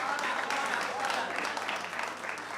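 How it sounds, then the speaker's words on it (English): An audience at a tertiary business challenge grand finale claps in a sustained, fairly even round that eases slightly near the end, somewhat distant and mixed with indistinct voices. "Please, a round of applause."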